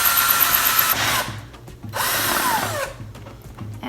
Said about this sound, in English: So I'm just gonna place it on my shell. I'm gonna start drilling slowly.